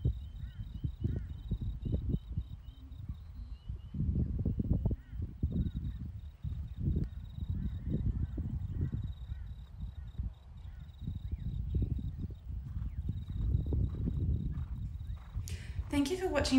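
A horse canters through simple changes with more collection during a riding training session, its dull hoofbeats thudding in a steady rhythm beneath a person talking throughout.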